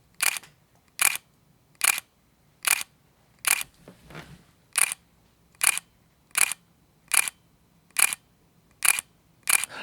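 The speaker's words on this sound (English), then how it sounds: "I'm gonna let you hear the shutter sound real quick because this is cool as hell." A Leica camera shutter fires about a dozen times in an even rhythm, each a crisp, close, sharp click standing alone against near silence, with one brief rustle partway through.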